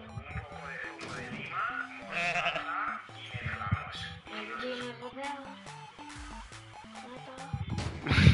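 A goat bleats several times in short repeated calls while people talk and play a video game nearby, with the voices often overlapping the animal sounds.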